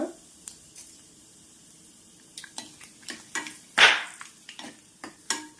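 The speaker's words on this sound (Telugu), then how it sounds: "ఒక పావు టీ స్పూన్ జీలకర్ర వేసుకోండి ఇవి మంచిగా వేగాలన్నమాట" Cumin and mustard seeds fry in hot oil in a pan for tempering, giving sparse, quiet crackles and pops with one sharper spluttering burst midway.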